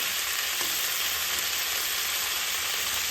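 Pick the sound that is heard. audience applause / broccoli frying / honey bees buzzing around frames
broccoli frying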